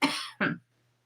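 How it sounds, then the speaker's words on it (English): Two quick, close coughs from a woman, a harsh first burst followed by a shorter second one, then silence. "And a cough, apparently."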